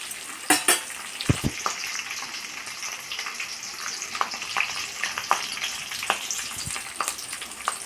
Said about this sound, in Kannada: ಕರಿಬೇವು ಸೊಪ್ಪನ್ನು ಚೆನ್ನಾಗಿ ಎಣ್ಣೆ ಒಳಗೆ ರೋಸ್ಟ್ ಆಗಬೇಕು